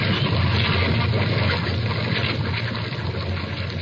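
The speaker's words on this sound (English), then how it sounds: "Through the breach, they heard the waters pour as mountain torrents down a flume." Water rushes and pours through a breach into a ship in a steady, loud torrent, a dense roaring wash that slowly eases toward the end.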